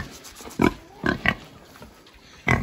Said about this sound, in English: You're a naughty pig,